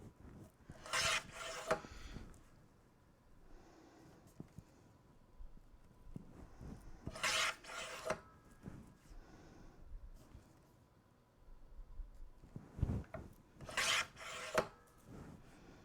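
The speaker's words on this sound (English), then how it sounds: "this one I'm gonna cut down the side, and again I'm gonna cut 4 1/4 inch pieces" Paper is cut down the side into 4 1/4 inch pieces in three separate passes. Each pass makes a soft, rasping, scraping sound about two seconds long, with quiet pauses between them.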